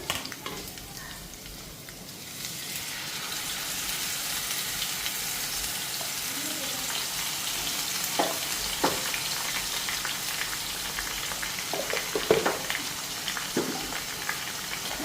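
Spice masala frying in a home cooking pan, a dense continuous sizzle with scattered crackles and pops, a few sharper clicks from stirring, running steadily and close throughout.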